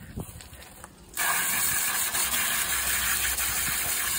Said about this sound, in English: I got a spray nozzle so that it can come out at a higher pressure.